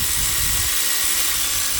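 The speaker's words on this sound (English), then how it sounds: "you can put a 12mm socket through the holes of the pulley of the power steering pump" A power tool spinning a 12mm socket to undo the power steering pump bolts on a Nissan Navara D40 with the 2.5L YD diesel, a continuous high whine with a grinding, rattling edge, close by and steady throughout.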